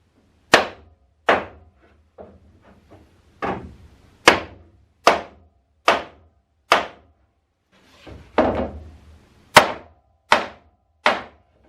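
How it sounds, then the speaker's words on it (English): A small sledgehammer drives nails into a wooden boat's garboard plank, about a dozen sharp, separate metallic knocks spaced roughly a second apart, close and loud with quiet gaps between strikes. "A small sledgehammer served as a dolly to hammer the nails onto their"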